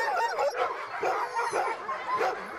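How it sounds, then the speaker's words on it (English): Sled dogs in a Colorado kennel of about 130 dogs bark, yip and whimper excitedly in a dense, continuous chorus, close and loud, with a voice faintly beneath. "It is 130 dogs excited to run, pretty much saying, pick me, however they can."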